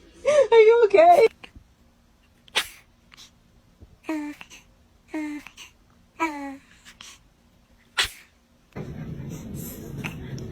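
A baby sneezes indoors: two sharp, brief bursts stand apart from the baby's babbling and small vocal sounds, fairly close and clear against a quiet room.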